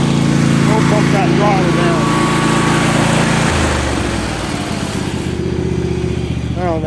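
A small lawn mower engine, either a Yard Machines or a Husqvarna, runs loud and close with a steady buzzing drone that drops to a lower, rougher note partway through, while people talk nearby.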